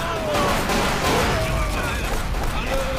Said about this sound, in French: Oh là là, cet effet d'explosion